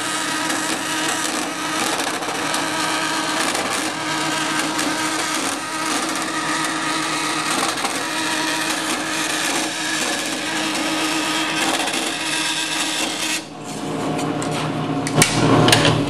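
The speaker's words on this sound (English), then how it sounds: "Cut a piece of 16th inch aluminum sheet to at least 3 inches by 2 1/4." A piece of 1/16-inch aluminum sheet is cut with a power tool, a loud, steady whine running continuously for most of the time before a brief dip and resumption near the end.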